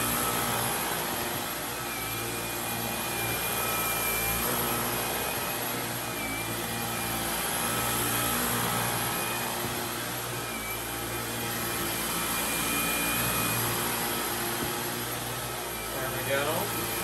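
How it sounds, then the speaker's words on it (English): A Dyson V15 Detect cordless vacuum cleaner runs on carpet with a continuous high-pitched motor whine that swells and eases slightly as it adjusts speed, while a person talks over it. "You can see it adjusts the motor speed for the carpet that I'm on."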